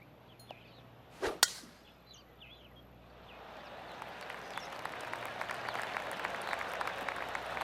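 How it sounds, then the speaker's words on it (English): In the video game PGA TOUR 2K25, a sharp crack rings out, then scattered polite golf claps build into steady applause from a crowd at a distance. "Oh, golf clap."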